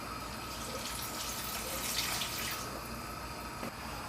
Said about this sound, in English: so we add the water.